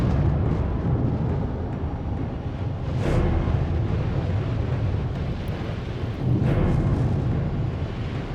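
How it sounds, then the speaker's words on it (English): The Anak Krakatoa volcano erupting, a continuous deep roaring rumble with heavy low-end booming that swells in a couple of louder surges, loud and sustained with wind-like noise over it. "the booming sounds of the volcano"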